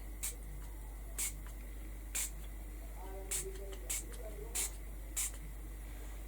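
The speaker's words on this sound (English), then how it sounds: "A direct spray." Several short bursts of bronze aerosol spray paint onto canvas, hissing one after another with brief pauses between them, close by over a faint steady hum.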